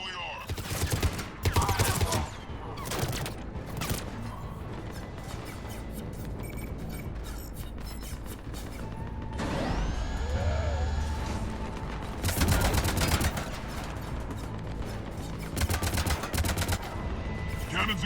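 Cannons fire in the sci-fi video game Mass Effect 3 as repeated booming blasts and rapid bursts. The barrage is dense and loud over droning game sound, with a voice speaking briefly.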